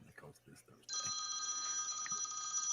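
A phone rings with an incoming call, a steady electronic ringtone that starts abruptly after brief talk and holds on continuously, fairly loud and close.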